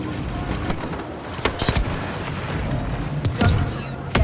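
A grenade blast in the Star Wars Battlefront II battle on Hoth, with heavy booms and scattered gunfire crackling through dense game noise and distant shouting voices.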